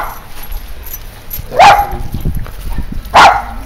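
Dog barking during outdoor agility training, two loud, close single barks about a second and a half apart over quiet outdoor background.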